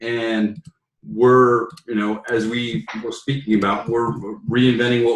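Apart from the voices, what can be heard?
No everyday noises stand out.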